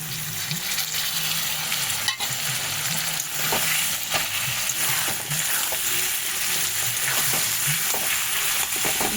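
Softened onions with ginger paste sizzle loudly in a pan as a spoon stirs them, a continuous close frying hiss broken by scraping strokes, with no talking.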